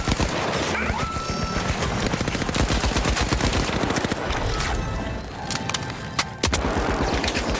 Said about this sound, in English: RPG fire!